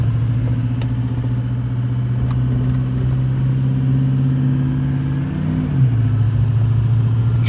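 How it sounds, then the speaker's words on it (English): A 2007 Ford 6.0 Powerstroke diesel truck fitted with 625 injectors, driving along with a loud, steady engine drone heard from inside the cab, its pitch dipping briefly as it shifts. "So the truck's running pretty solid so far."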